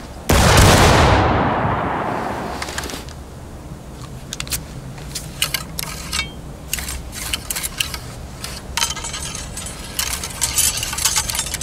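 A musket volley in the Civil War game War of Rights goes off as one loud, massed blast that rings out and decays over a couple of seconds, followed by scattered rattling and clicking of reloading gear.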